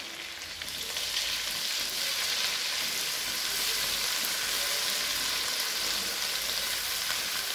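Chopped chili peppers, including bird's eye chilies, sizzle steadily in hot oil with fried shallots for a spicy balado sauce, a continuous close crackle with no talking.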